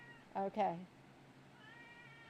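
Indoors, a pet cat gives a quick pair of short, close meows, followed by faint talking in the background.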